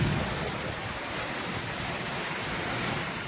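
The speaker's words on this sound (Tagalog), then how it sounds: "lakas ng hangin at ulan na dala ng bagyong Nona" Typhoon Nona's strong wind roars continuously with dense rushing noise, gusts and driving rain battering everything close by, in the Philippines.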